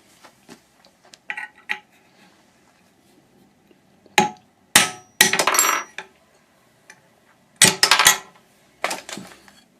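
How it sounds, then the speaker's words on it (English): Several sharp metallic taps come from a hammer striking a nail set to knock the spindle out of a hard drive. The blows land in irregular pairs and clusters, close and crisp, against a quiet background. "You just need to put a little nail set in that little hole, and it'll pop right out."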